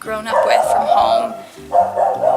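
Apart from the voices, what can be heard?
dog barking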